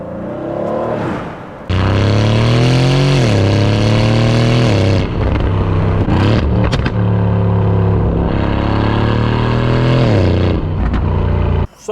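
An Aston Martin Vantage sports car idles and pulls away in slow downtown Tampa traffic, its engine note loud and close with steady harmonic drone, rising revs and brief dips as it creeps along.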